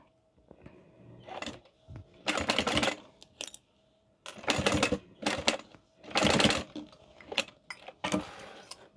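A sewing machine runs in short bursts of rapid stitching while back stitching a crossbody bag, with clicks and pauses between runs, close and fairly loud, with no talking.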